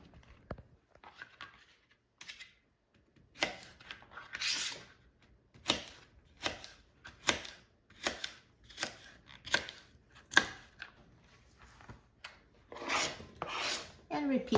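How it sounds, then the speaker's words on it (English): A knife slicing through fresh okra on a cutting board, producing a run of crisp, evenly spaced cuts close up with short pauses between strokes and no talking. "now the okra itself, I'll just cut like this"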